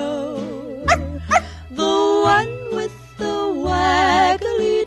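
Two quick dog barks pop out over the orchestral backing of a 1950s pop song, followed by sung vocals.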